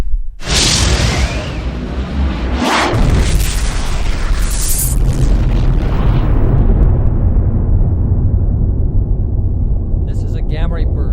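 A cinematic supernova explosion effect for an exploding star: a loud, sustained wall of deep booming rumble with sharp bursts and whooshing swells, fading into a long roar, with no speech.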